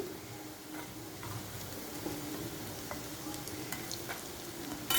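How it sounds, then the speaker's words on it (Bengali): Pakora frying in oil until deep reddish-brown, with a steady, moderate bubbling sizzle and occasional small pops throughout. "আমার পকোড়াটা লাল লাল করে ভাজা হয়ে গেছে"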